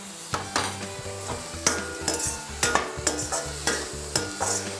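Chopped vegetables and ginger sauté in a pan while being stirred for kozhukattai, with repeated scraping and clattering strokes of a spoon over a soft sizzle, close and moderately loud, without speech.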